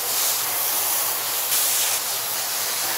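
Sea salt being rinsed with water, heard as a loud, steady hissing spray that swells briefly midway, with no talking.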